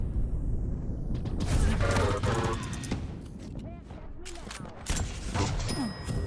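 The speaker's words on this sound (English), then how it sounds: "It seems like he's peppering with the heavy machine gun." Rapid heavy machine gun fire in the arena shooter Quake Champions, choppy bursts mixed with clanking weapon and movement effects, loud and busy, with a caster's voice talking over parts of it.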